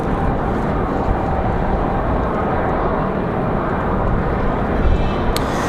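A Copa Airlines Boeing 737-800 at Raleigh-Durham International Airport produces a steady, loud, broadband jet engine roar that holds constant throughout, heard on a windy day with no talking.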